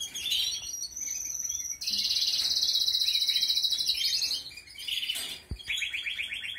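Loud, fast bird chirping and trilling nearby, in bursts that overlap one another with only brief pauses between phrases.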